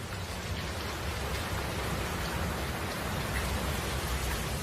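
Steady heavy downpour on open prairie fields, an unbroken hiss of rain with a low rumbling undertone and no voices.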